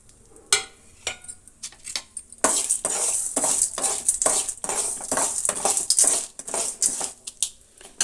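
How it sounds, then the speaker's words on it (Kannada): Urad dal, chana dal and coriander seeds fry in a pan, with dry rattling and scraping as a spoon stirs them, plus clinks of metal on the pan, close and moderately loud with no talk. "ಉದ್ದಿನಬೇಳೆ 2 ಸ್ಪೂನು, ಕಡಲೆಬೇಳೆ 2 ಸ್ಪೂನು, ಸ್ವಲ್ಪ ಧನಿಯಾ, ಇಷ್ಟನ್ನು ನಾನು ಫ್ರೈ ಮಾಡ್ಕೊಳ್ತಾ ಇದ್ದೀನಿ."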